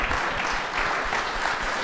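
Audience applause fills the room in a continuous, dense wash of clapping, fairly loud and close, with no voices over it.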